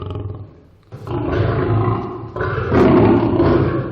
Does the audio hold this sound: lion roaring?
yes